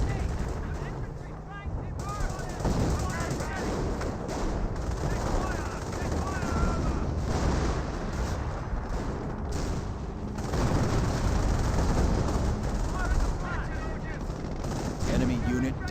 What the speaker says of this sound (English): But now we've got the Calliope barrage raiding on in.